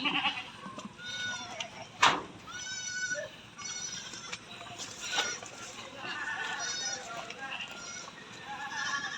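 Goats bleat repeatedly in wavering cries, mixed with nearby voices and outdoor rustling.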